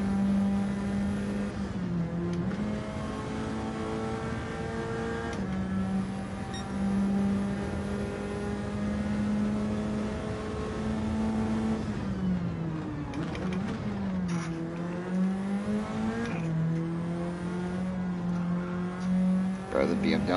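A noisy car engine in the video game Gran Turismo 7 drones steadily and loud throughout, its pitch dipping and climbing with gear changes and throttle, with a player talking over it.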